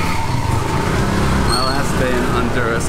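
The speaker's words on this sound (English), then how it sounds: "I'm in a tuk-tuk heading to the airport" A tuk-tuk's small engine drones steadily with road rumble during a ride to the airport in Honduras, while a person talks over it.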